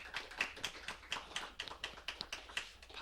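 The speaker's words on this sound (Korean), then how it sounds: "박수로 우리 환영하겠습니다." A church congregation applauds a youth leader stepping up, a steady patter of many hands clapping at moderate distance, fairly soft and without talk.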